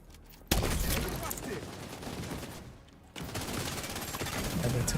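Gunfire in The Division video game: after a quiet opening, a sudden burst of rapid automatic shots and fusillade fills the space, dips briefly, then resumes in a dense, loud volley, with muffled voices mixed in.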